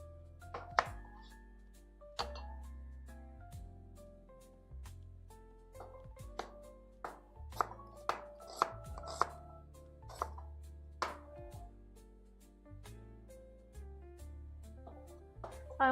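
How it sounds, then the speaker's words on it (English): Knife chopping a small onion on a board during home cooking, with irregular thunking cuts scattered through, some louder strikes, under quiet background music-like tones. "If you don't want to cry, don't cut off the root part of an onion. But I have a really small onion here"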